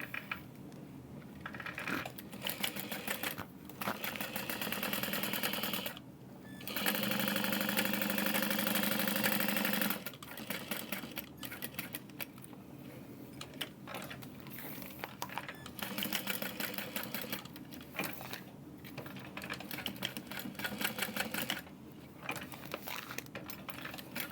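Sewing machine stitching down the handle of a tote bag, running in bursts of steady mechanical whirring with brief pauses and a louder sustained stretch midway, close and with no one talking.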